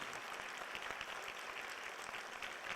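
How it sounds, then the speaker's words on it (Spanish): An audience at a municipal forum on administrative justice gives a steady burst of clapping, dense and fairly distant, with no voices over it. "Un fuerte aplauso y el cariño de todos los sanpetrinos."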